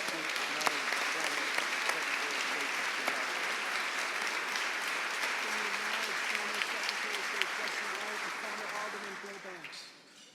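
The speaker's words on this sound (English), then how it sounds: "receive a warm round of applause for all you" A room of guests at the Chicago Bar Association annual meeting applauds bar association presidents, a dense, sustained wash of clapping that holds for several seconds before fading out at the end.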